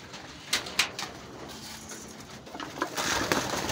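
Racing pigeons eat feed, with soft coos and a scatter of quick pecking taps and shuffles, some sharp and close, over a low, steady background.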